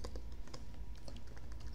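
Keys clatter on a computer keyboard in a quick, uneven run of close taps while a print-quality map is built in ArcGIS 10.6, with no speech.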